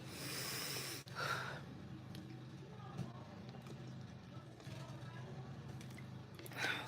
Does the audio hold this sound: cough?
yes